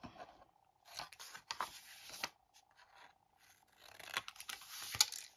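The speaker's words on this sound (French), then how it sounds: "je viens biseauter mes languettes de collage comme d'habitude" Scissors bevel paper glue tabs on a handmade vintage Christmas mini album, giving a few close, crisp snips and scraping cuts with brief pauses between them.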